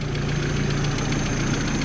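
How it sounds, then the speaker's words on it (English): An Audi car engine runs at idle inside a garage, a steady close mechanical hum with a faint rhythmic knock that continues evenly throughout. "we're not that stupid to have a running car and a fully closed garage"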